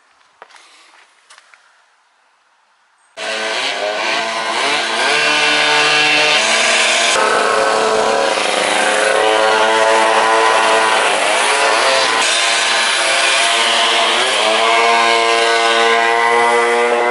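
Two-stroke mopeds rev loudly at a moped gathering, a dense buzzing, crackling engine roar that bursts in after a few seconds of quiet and holds high and continuous, close by.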